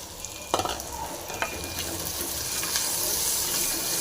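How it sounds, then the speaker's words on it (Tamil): Shallots and garlic frying in oil with salt in a pan, a steady close sizzle that thickens over time, broken by a few sharp stirring knocks. "சாம்பார் வெங்காயம் இது வந்து நல்லா ஃப்ரை ஆகட்டும்"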